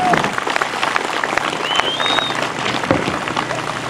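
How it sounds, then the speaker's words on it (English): Outdoor crowd applauding the U.S. NORAD NORTHCOM Joint Color Guard at a Toys for Tots motorcycle run event in Colorado Springs, steady dense clapping with cheers and a whistle throughout, voices mixed in. "Round of applause for the U.S. NORAD NORCOM Color Guard, Joint Color Guard."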